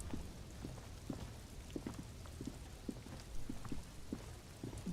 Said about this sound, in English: Well, it is raining, which is definitely a bit disappointing.